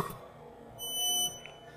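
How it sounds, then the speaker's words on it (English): One short electronic beep, about half a second long, from a spot welder. It is moderately quiet against a faint background hum. "you guys can see it was a nice short beep"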